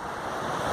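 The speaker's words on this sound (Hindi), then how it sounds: "वहाँ दूर से आता हुआ झरना, देखिए इसका पानी" A waterfall on the Gaumukh trek rushes in a continuous broadband roar, loud and steady throughout with no voices.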